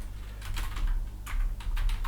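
Short bursts of computer keyboard typing, entering a brief line of text, sit over a steady low hum. The keystrokes are close and moderately loud, with no talking.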